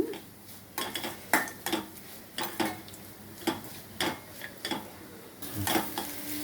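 Grated coconut fries in a pan for a Navaratri prasadam, with a steady run of sharp spatula clinks and scrapes against the metal over a faint, low sizzle.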